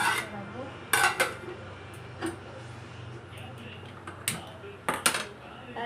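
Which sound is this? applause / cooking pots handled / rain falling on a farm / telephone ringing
cooking pots handled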